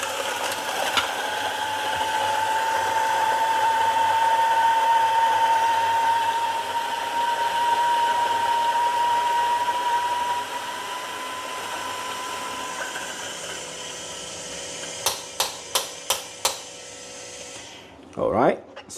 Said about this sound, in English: currently the grinder you see is actually the grinder from Timor.